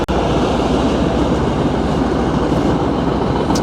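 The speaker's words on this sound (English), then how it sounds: "there's a train coming by, so I'm sorry for that if you hear that noise" A train rolling past close by, a loud, steady rumble with rhythmic clattering of wheels on rails lasting throughout, no voices.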